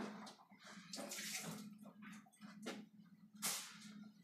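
Hands being washed under a running tap while preparing whole red snapper, with irregular bursts of splashing water over a steady low hum, moderately close and no talk.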